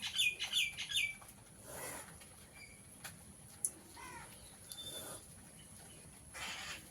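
Common mynas chirp at a morning feeding spot shared with a squirrel, a quick run of sharp calls at the start, then sparse chatter, faint rustles and occasional flutters in quiet surroundings.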